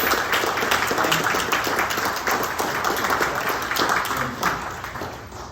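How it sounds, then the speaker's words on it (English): Applause from the audience at a city council candidate forum in North Miami, a steady wash of many hands clapping at moderate level that carries through the whole stretch and tapers slightly near the end. "So now it's appropriate to have a big round of applause for all of us."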